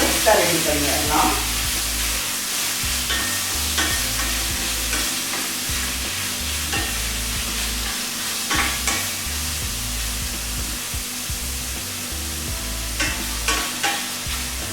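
Two tomatoes sautéing in a pan for zucchini kofta, a continuous close sizzle with frequent stirring scrapes and knocks of a spoon against the pan, with occasional faint speech in the background.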